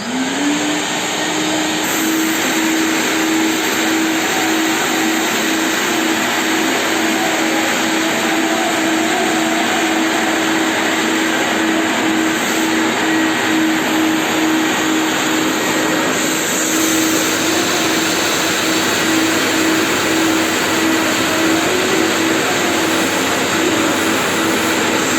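A Klenco Typhoon SM580 wet/dry vacuum cleaner runs continuously with a steady, loud single-motor whine and airy roar, holding an even pitch throughout with no talk.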